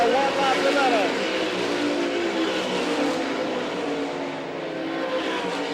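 Dirt-track race cars at a Wakeeney, Kansas All Stars vs NCRA event roar through turns three and four as a steady, loud, blended engine drone under a public-address announcer's talk.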